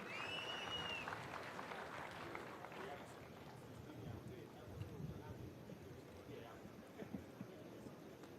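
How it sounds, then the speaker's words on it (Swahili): A crowd applauds at the Eldoret city conferment ceremony, giving a dense, continuous patter of clapping with voices mixed in throughout. "Tumpigie makofi."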